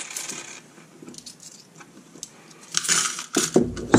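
Coins clatter and jingle as they are scooped out of a CrowBox coin feed basket, with soft scattered clinks followed by louder metallic bursts near the end, close and without speech.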